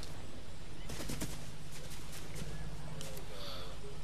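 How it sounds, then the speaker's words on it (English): Sniper rifle fire in a video game sounds as several sharp reports, a close cluster early on and a couple more later, over steady game background noise. "There, that's sniper rifle."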